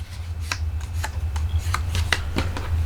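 White cardstock being folded in half and creased by hand: crisp, close papery crackles and rubbing strokes in an irregular rhythm over a low background hum, with no voices.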